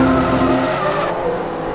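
A six-cylinder race car in Forza Motorsport 2 launches hard off the starting grid, its engine roaring loud and steady alongside tire squeal and the rumble of the surrounding field.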